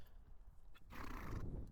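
A horse neighs loudly close by, a rising whinny that swells in the second half over a steady background, with hoof clip-clop also present.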